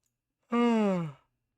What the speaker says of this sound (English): Oh man, second yawn.